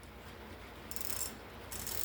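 A Kobalt 3/8 flex head ratchet clicks in two quick bursts of fine, crisp ratcheting, faint and close in a quiet room with no talking.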